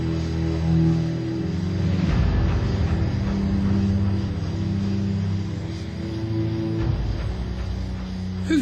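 A Eurofighter Typhoon military jet flies by, its engine roar a steady, loud low rumble that swells and shifts in pitch as it passes, with no talk over it.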